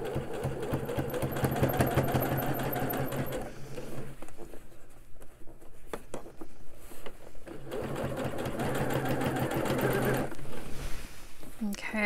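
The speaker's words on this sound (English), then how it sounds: "you want to try to sew close to the edge, and the goal is to completely encase that seam so that we have a nice finished edge" A sewing machine stitches a bound seam edge on a surgical gown in two long, fast runs of close, rattling needle clatter, separated by a quieter pause with faint handling sounds.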